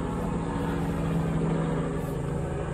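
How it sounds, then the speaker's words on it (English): A steady low mechanical drone of aircraft rotors hums continuously, moderately loud, with no voices over it. "It's not cars, it's fucking helicopters."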